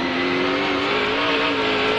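A NASCAR race car at the 2002 Sonoma road course race howls with a loud, sustained engine note whose pitch shifts slightly as the driver works the throttle, heard alone at close range.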